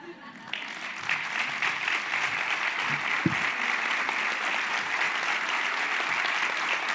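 Steady applause from the audience at an international disability congress, continuous dense clapping filling the hall with a brief low thump partway through.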